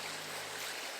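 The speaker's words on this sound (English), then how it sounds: "We just got to this little waterfall and rock pool" Small waterfall pouring into a rock pool in the Main Range National Park, a constant broadband rush of falling water, close and steady over a brief moment.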